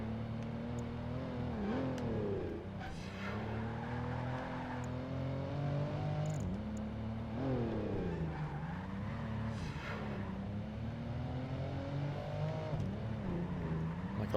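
A classic car in the Project Gotham Racing 2 video game revs hard throughout, its engine pitch sweeping up and down through gear changes with brief tire squeals, loud and continuous with no talking.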